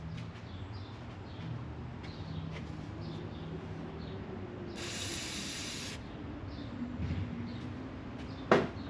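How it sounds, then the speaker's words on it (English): Brake cleaner is sprayed onto a part of a 1977 Corvette in a quiet garage, one short, loud hissing burst of about a second, followed later by a faint clink and a sharp click. "All hit it with a little brake clean."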